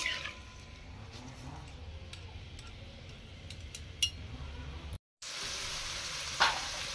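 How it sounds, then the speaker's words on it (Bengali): Paneer cubes frying lightly in a pan give a steady, soft sizzle throughout, with a few faint ticks of stirring, a brief dropout near the end, and no talk. "পনিরগুলো একটু হালকা করে আমি ভেজে নেব।"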